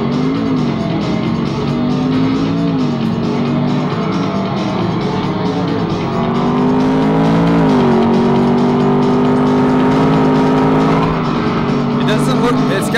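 A continuous car engine drone from an arcade racing game, with a steady pitch that rises and falls slightly as the car accelerates, loud and close, with a voice talking over it.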